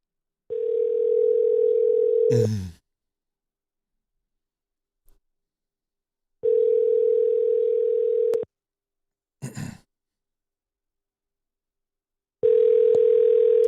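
A telephone line tone sounds in steady two-second bursts separated by long silent gaps while a number is called, with brief clicks and crackles between the tones and no talking.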